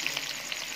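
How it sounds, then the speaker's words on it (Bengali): Chopped onions sizzle in hot ghee in a pan while Chinese-style mixed fried rice is being made, a soft steady frying hiss with faint crackles, heard alone. "ঘিটা গরম হয়ে গেছে। দেখো প্রথমে পেঁয়াজ দিচ্ছে"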